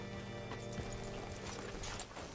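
Horse hooves clip-clop steadily in Red Dead Redemption 2, a moderately close, rhythmic run of hoofbeats over a busy layer of game ambience and mechanical clatter.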